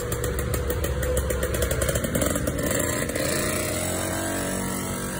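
A small gas-powered assembled scooter engine idles with the choke on, a close, steady mid-pitched chugging with a slight rise partway through, heard alone.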